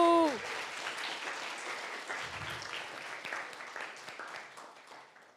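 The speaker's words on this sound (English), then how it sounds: "Rounds of applause for Kahinu." An audience at a symposium applauds after a talk, brisk scattered clapping that opens at full strength, then thins and fades over several seconds, with a brief tone at the start.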